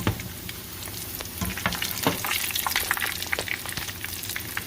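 Salmon patties (salmon croquettes) fry in vegetable oil with a steady, close crackling sizzle, punctuated by sharper pops and spatters throughout, with no talking.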